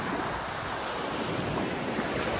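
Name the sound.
sea waves and wind after typhoon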